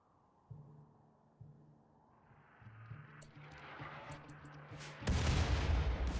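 Gunfire from colonists in the video game Rimworld during a tribal start on a cold bog map, a string of low muffled thuds building into a louder, denser burst of shots near the end, with no talking.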